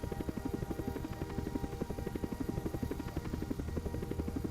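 A helicopter in a Unity-built penguin video game makes a steady, rapidly pulsing rotor chop that stays low and even throughout with no talking.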